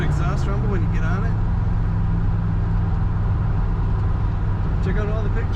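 A 1979 Chevrolet Camaro Z28 with T-tops gives a loud, continuous low exhaust rumble while driving, with a voice talking over it.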